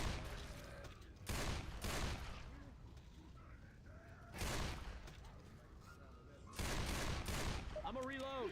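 Gunfire against zombie hordes in Left 4 Dead 2, several loud bursts of shots separated by quieter gaps, with voices talking in between.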